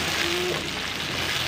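Chili being stirred into spice paste frying in a pan for sambal goreng kentang krecek, a steady close sizzle with soft scraping of the spoon throughout.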